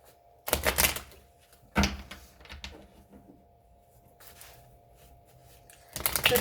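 Tarot cards are shuffled in several sharp, rattling bursts, close and crisp, with quiet gaps and a faint steady hum in between. No one speaks.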